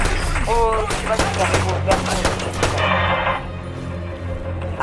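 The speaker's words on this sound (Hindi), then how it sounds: "बहुत ज़्यादा फायरिंग है हमारे ऊपर" Heavy video game gunfire in a Brothers in Arms 3 campaign mission: rapid, loud bursts of automatic fire and shots crowd the first three seconds, then thin out to a quieter background.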